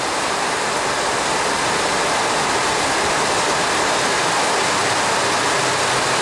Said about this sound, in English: She's watching it rain too.